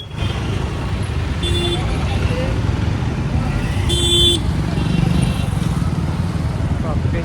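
Vehicles moving through street traffic: a steady rumble of engines passing nearby, with a few short horn toots standing out, continuous and fairly loud, with people talking over it.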